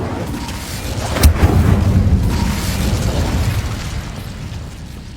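The Incendio fire spell is cast in the Hogwarts Legacy video game: a sharp burst hits about a second in, then a loud, low roaring rumble carries on and gradually tapers, with no voices.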